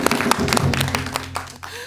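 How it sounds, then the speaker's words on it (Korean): Audience applause at a Buddhist dharma talk event, a short burst of scattered hand claps up close that thins out toward the end. "여러분 큰 박수 부탁드리겠습니다"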